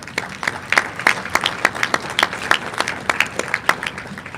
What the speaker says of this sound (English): I'd like to have you all give them a big round of applause